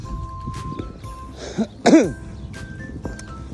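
A person gives a couple of short, harsh coughs in quick succession, close by, against a quiet background with faint noises.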